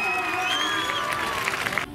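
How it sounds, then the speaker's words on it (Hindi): An audience at a school function applauds to welcome a guest, the state education minister, in a brief burst of clapping mixed with loud, sustained voices and cheering. "सब तालियों के साथ में आप स्वागत करें।"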